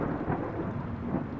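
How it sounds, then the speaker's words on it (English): A thunderstorm rumbles through the Guardians of the Galaxy video game, a steady low roar of thunder and rain filling the scene without a break, fairly loud and with no voices over it. "A miracle it's still standing in these storms."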